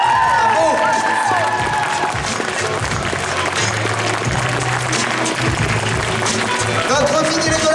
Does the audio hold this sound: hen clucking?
no